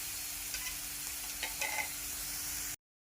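Green chillies sauté in a hot pan for a batata vada filling, giving a steady close sizzle with a few soft stirring scrapes, then cutting off abruptly near the end.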